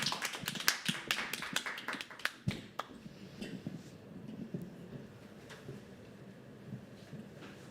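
Live clapping from an audience at a poetry open mic, a burst of sharp overlapping claps that thins out after a few seconds into sparse, scattered claps and quiet room murmur.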